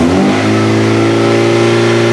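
Ford Fusion engine floored in neutral with the brakes held, revving hard and holding a loud, steady high-rpm drone with strong engine harmonics throughout.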